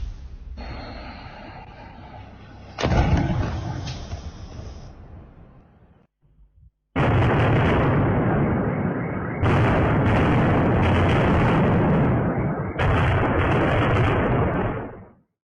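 Oreshnik missile strikes on Dnipro caught in amateur footage, a series of loud rumbling blasts, with one sharp surge, a brief lull, then three long, heavy roaring bursts close together before fading out.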